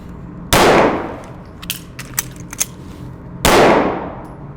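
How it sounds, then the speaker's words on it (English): Handgun emergency reload: two loud sharp metallic clangs, each ringing out as the magazine is dropped and the slide released, separated by a few light clicks and handling taps in between. "Dump the magazine that's on the gun right away, discard that, let it fall freely to the ground."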